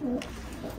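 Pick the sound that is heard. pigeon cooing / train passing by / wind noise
pigeon cooing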